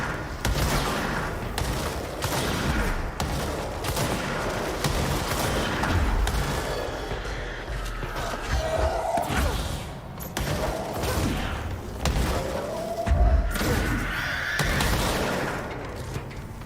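Constant gunfire with booming explosions from exploding enemies in the video game Control, loud and dense throughout, with rapid shots layered over blasts and only brief dips in the barrage.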